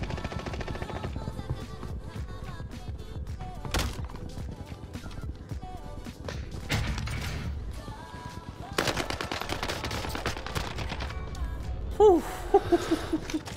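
SCAR rifle gunfire in Warzone, with repeated bursts of rapid close shots scattered among other game sounds and a few sharp impacts, fairly loud against a busy battlefield background.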